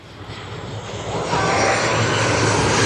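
A passenger airplane passes low overhead near Corfu, its engine roar a broad, loud rush that swells steadily and grows louder throughout, with no talking over it.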